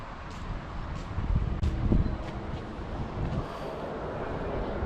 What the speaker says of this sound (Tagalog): Ay mahangin siya.